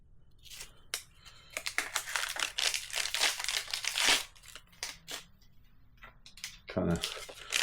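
Wax-paper wrapping around a Legion poppy ordered online crinkles and rustles close up as it is handled and peeled, a busy stretch of crisp crackling that thins out toward the end, with a voice speaking over parts of it.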